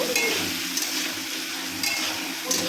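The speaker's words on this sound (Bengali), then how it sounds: "সামান্য হলুদ দিয়ে আলুটাকে আমি ভাজা ভাজা করে নেব।" Steady sizzling of potatoes with a little turmeric frying in a pan, with occasional scraping from stirring, close and moderately loud with no voices.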